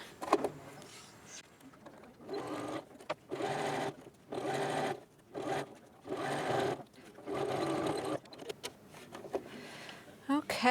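A home sewing machine stitches the side seam of a fabric tote bag in several separate bursts of steady whirring, each a second or two long, with short pauses between them and a few quiet clicks and handling sounds.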